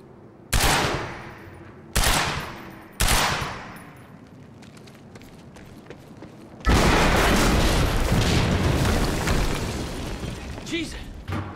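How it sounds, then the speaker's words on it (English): Quantum Break gunfire and explosion: three heavy booming shots spaced about a second apart ring out and decay, then a loud sustained blast and rumbling roar with debris fills the rest, very close and loud. "HQ, we just heard an explosion near the harvesting perimeter."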